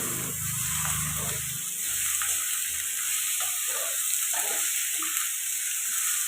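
Broad beans curry with tomato puree frying in a pan, a steady close sizzle and hiss with occasional stirring scrapes, alone without talk.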